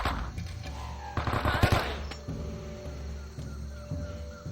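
M16 assault rifle gunfire from the Vietnam-era shooter game Men of Valor, with bursts of shots cracking out loudly in the middle over a steady low background rumble, alone without talk.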